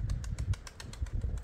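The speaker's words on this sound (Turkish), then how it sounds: "Kuşlar geldi, yerine indi." Wings flap in a rapid run of soft beats as Şekeri pigeons flutter down and land nearby, the rhythm uneven and moderately loud.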